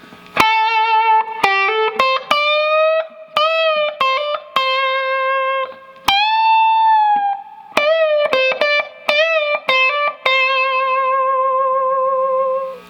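Electric guitar with distortion plays a solo line of picked notes, bends up and back down, and vibrato-held tones, with short pauses between phrases and no talking, played alone and clearly.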